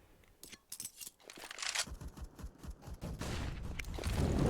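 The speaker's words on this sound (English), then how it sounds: "Burst fire from Adan" Rapid gunfire bursts in Counter-Strike on the Train map, sharp cracking shots in quick succession at moderate volume, building toward denser, louder firing at the end.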